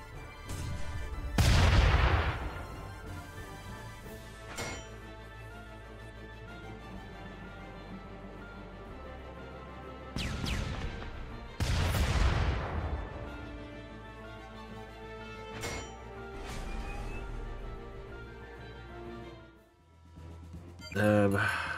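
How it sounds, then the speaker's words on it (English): Cannon fire in the video game Front Mission 2: several heavy booming blasts with decaying tails, spaced a few seconds apart over game music and effects, loud and close. "Yeah, I guess you just shoot at them with the cannon."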